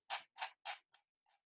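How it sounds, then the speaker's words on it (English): Five quiet scratchy clicks in quick succession, fading toward the end, like a mouse wheel scrolling on a computer. "That sound you hear is me scrolling through the math packet."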